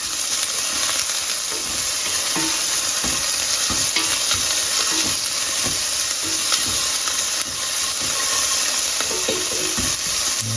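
Chopped onion stirred and sautéed in a hot pan for chicken adobo, a loud continuous sizzle close up with scraping stirring strokes scattered throughout.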